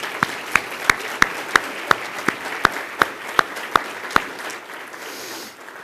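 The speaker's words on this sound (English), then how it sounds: "Let's give our city staff a round of applause, too." Steady, rhythmic clapping with sharp, evenly spaced claps over a soft wash of applause that fades out toward the end, at a city State of the City address.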